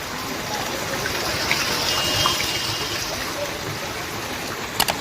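Floodwater of the swollen Yamuna river at Vrindavan rushes in a steady, loud, close wash of water that continues throughout, with no clear talk over it.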